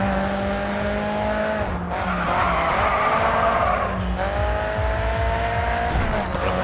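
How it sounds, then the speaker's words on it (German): A race car in the racing video game GRID 2 drifts through corners, its tires squealing in long continuous screeches over a steady, loud engine roar, with no talking. "Versucht das Auto in den Kurven in einen Drift zu kriegen, um das Tempo hochzuhalten"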